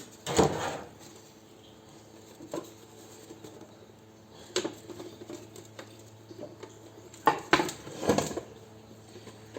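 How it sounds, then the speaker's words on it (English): Mild steel screws dropped into a steel bin: a few separate metallic clatters and rattles, close and sharp, with quiet hum between them and a cluster of clinks near the end. "Mild steel screws in the steel bin."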